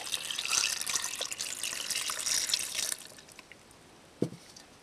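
Water pours into a cooking pot for pork sinigang with a steady splashing rush for about three seconds, then stops, leaving a quiet room broken by a single knock near the end.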